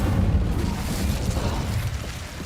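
Incendio fire spell cast in Hogwarts Legacy: a low, rumbling whoosh of flame that fills the whole moment at moderate loudness, with no speech over it.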